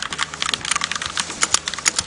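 Rapid keystrokes on a mechanical keyboard clatter up close in a steady, uneven stream of sharp clicks, with a few louder key strikes standing out and no voices.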